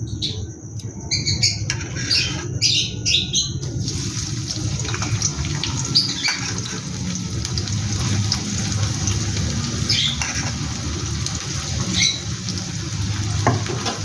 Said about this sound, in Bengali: তেলটা গরম হয়ে গেছে, এবার আমি পেঁয়াজটা দিয়ে দেবো।